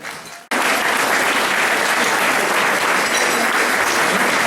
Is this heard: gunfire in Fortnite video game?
no